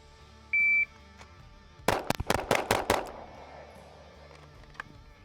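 A pistol drill on a range opens with a short shot timer beep, then six quick gunshots ring out in a rapid, evenly spaced burst, loud and close, with a lingering echo after.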